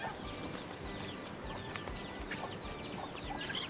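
Rhode Island Red and Sasso chickens cluck and chatter in short bursts over a noisy outdoor background, fairly faint and continuous with scattered calls throughout.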